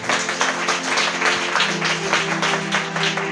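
A church congregation claps loudly and continuously during a pastor's sermon, a dense wash of many hands that holds steady for the whole stretch. Faint music tones sound underneath.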